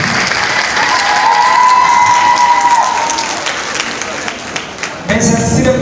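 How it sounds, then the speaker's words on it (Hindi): An audience at an annual company ceremony claps and cheers loudly and continuously, with crowd noise and a voice rising over it before the applause fades. "शोर और ताली।"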